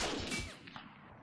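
A platoon volley of World War I rifles in the strategy game Battle of Empires 1914-1918, one sharp, loud crack that fades quickly into a short echoing tail.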